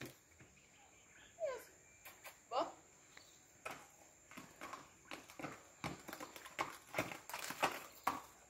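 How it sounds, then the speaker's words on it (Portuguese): Horse hooves clip-clop outdoors as the horse steps backwards, an uneven run of close knocks that grows busier toward the end, with a faint steady whine behind it. "Quem falou que cavalo não dá ré?"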